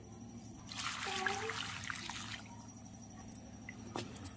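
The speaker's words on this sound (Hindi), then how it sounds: "चिकन को अच्छी तरह से गर्म पानी में धुल के निकाल ली हूँ" Chicken washed in hot water with salt, turmeric and lemon gives a faint, close slosh and trickle of water, with soft splashes and a few quiet clinks.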